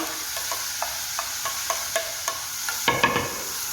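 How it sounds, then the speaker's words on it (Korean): Minced meat stir-fried with chopped onion and celery for an Italian meat sauce, a steady sizzle with regular scraping strokes of a utensil against the pan, close and clear with no voices. "양파와 샐러리가 또 숨이 죽을 정도로 한번 볶아줍니다."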